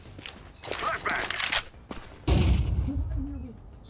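Flashbang grenade going off in CS:GO, a sudden loud burst that follows scattered gunfire and footsteps during a bomb-planted round, with a voice talking over the game.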